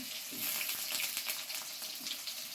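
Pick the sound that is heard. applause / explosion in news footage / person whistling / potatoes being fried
potatoes being fried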